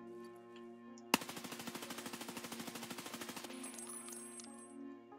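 An M4 rifle fires a rapid full-auto burst from a crouched stance in the video game Escape from Tarkov, about two seconds of evenly spaced sharp shots, with a faint ringing tail afterward.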